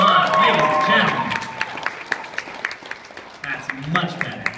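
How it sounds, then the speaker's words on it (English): An audience applauds at a ballroom dance competition, a spread of clapping that fades out and picks up again while someone talks over it through the hall's sound system. "Oh, you can clap more than that. Come on, ladies and gentlemen."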